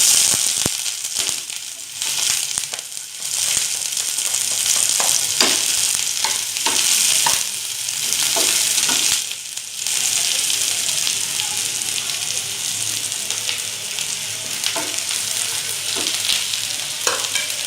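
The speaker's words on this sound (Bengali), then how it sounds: "রসুনের কুচিগুলো অল্প করে ভেজে নেব। তারপর পেঁয়াজ কুচিগুলো দিয়ে দেবো।" Chopped garlic and onion fry in a pan for a stuffed kakrol dish, with a loud, steady sizzle broken by frequent scraping stirs throughout.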